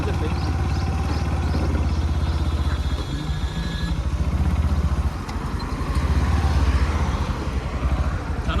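A Bajaj Pulsar NS motorcycle runs on an offroad ride, its engine a steady, rough mid-pitched drone with some clatter throughout, while a rider talks over it.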